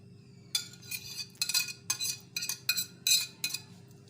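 A spoon clinks and scrapes against a bowl in quick irregular strokes while onions, boiled potatoes, coriander and tomatoes are mixed, close and fairly quiet over a low background hum.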